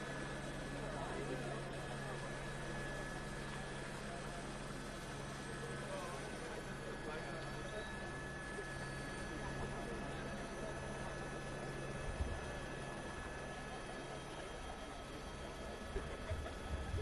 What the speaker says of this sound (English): That helicopter has about the same fuel capacity as our helicopter